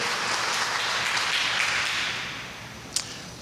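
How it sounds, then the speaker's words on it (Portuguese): Church congregation applauding during a sermon: a dense wash of clapping that holds steady, then thins and fades out, with one sharp isolated clap near the end. "Dê um aplauso ao nome do Senhor Jesus."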